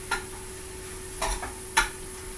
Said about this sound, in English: Give that another stir. It's just going to wilt down.